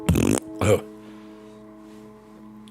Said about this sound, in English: here's a fart sound in case you were worried